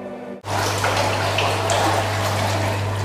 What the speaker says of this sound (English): That's the filtration system.